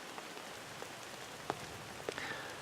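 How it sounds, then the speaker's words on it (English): Rain falling around hikers at Truchas Lakes in the Pecos Wilderness: a soft, steady patter with a few sharper drops tapping nearby, faint and continuous, with no voices. "We hiked for, I don't know, the last couple hours in the rain."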